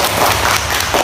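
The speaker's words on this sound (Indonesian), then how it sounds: "tepuk tangan anak-anak" Children applaud together in a classroom, a dense burst of hand claps that fills the short moment at a fairly loud, steady level.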